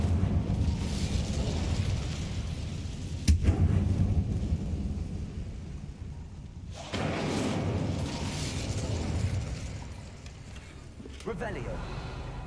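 Incendium fire spell blasting in Hogwarts Legacy, a booming burst followed by a roaring, crackling rush that drops out briefly and then returns loud before fading, with voices speaking over it.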